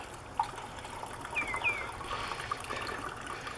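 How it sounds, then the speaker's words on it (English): Water draining out of an Aliner camper's fresh water system into a jar, a soft continuous trickle and splash heard close and fairly quiet, with a couple of faint squeaks. "Let it empty till it doesn't run pink anymore."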